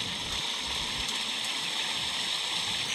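A waterfall in the horror video game Granny gives a steady, broadband rush of falling water, constant and fairly close, with no break across the moment.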